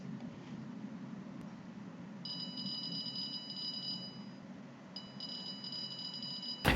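An electronic burglar alarm, homemade from a Bitbrick kit programmed with Entry, gives two stretches of rapid, high-pitched beeping over a low background hum, ending in a sharp click.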